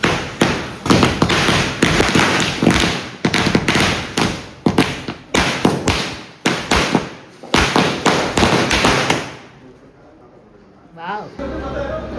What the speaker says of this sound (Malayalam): അങ്ങനെ പടകം വെച്ചിട്ട് അങ്ങനെ പടകം പൊട്ടിക്കാൻ വേണ്ടി ഓടി